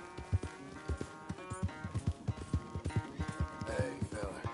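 Hooves of a horse being ridden in a corral in Red Dead Redemption 2 clip-clop in a quick, regular trotting rhythm, close and distinct, with voices talking over them.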